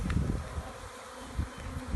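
A collected honeybee swarm being moved into a hive box drones in a dense, continuous buzz close by, with a few louder pulses.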